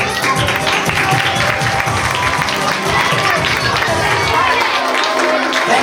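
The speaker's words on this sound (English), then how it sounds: "Give her a round of applause for helping us out." A crowd at a live family show claps and cheers in a sustained, busy wash of applause, with voices mixed into the steady clatter.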